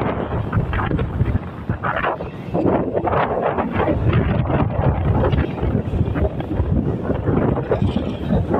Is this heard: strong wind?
yes